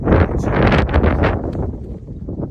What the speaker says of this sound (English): there's gusts that are probably 40, maybe 50 miles an hour